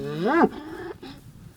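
A Florida range cow, from a herd adapted over centuries to the hot subtropical wilds, gives one loud close moo that rises and then falls, followed by a shorter, softer second call.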